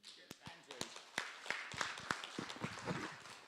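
Sparse, scattered clapping from a small conference audience applauding a presenter, near and fairly quiet, with individual claps and murmuring voices.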